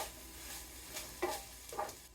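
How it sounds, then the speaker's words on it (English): Onion and carrots sauté quietly in a pan, a faint low sizzle with two brief soft stirring scrapes near the end. "saute the onion and carrots for 5 to 7 minutes"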